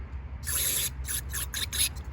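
Carburetor cleaner hisses through the passages of a 1982 Yamaha XJ750 Maxim barn-find carburetor: one long, close spray followed by four short, sharp bursts.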